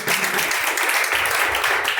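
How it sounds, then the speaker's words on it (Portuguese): A crowd claps steadily throughout, a dense continuous wash of applause with a few voices mixed in. "Palmas que louvem, engrandece o nome do Senhor"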